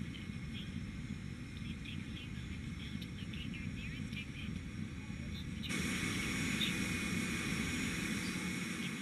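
Airbus A320neo jet engines spooling up in the X-Plane flight simulator, a steady broadband engine roar that jumps louder about two-thirds through as thrust is added, with no talk.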